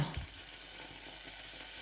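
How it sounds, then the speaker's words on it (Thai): Flour toasts in melted butter in a small pot, giving a soft, continuous sizzle with some stirring for a couple of seconds and no voices. "เราจะคั่วแป้งให้แป้งออกสีน้ำตาลนิดนึงนะคะ"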